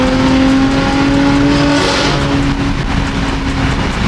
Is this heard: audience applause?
no